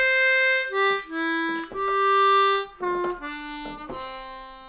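A C harmonica plays the closing phrase of Silent Night as a slow run of sustained blow notes, each clear tone held and separated by brief breaths, played alone without talk.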